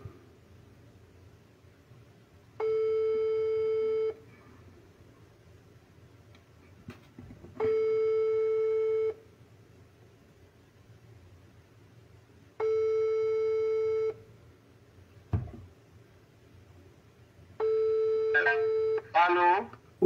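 A WhatsApp call ringing tone on a phone, four evenly spaced long beeps roughly every five seconds with faint background noise between them, and a short burst of voice at the end.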